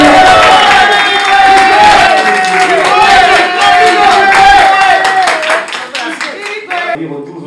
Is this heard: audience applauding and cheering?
yes